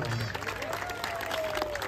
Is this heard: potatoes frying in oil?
no